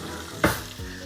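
Pork chop frying in a pan, a steady sizzle with a sharp burst of crackle midway as the meat is shifted, then settling back to frying.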